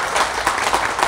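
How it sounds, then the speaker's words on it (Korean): Audience applause at a Korean history book talk, a short dense burst of many hands clapping steadily at moderate loudness with no talk over it. "여러분 박수 한번 쳐주십시오"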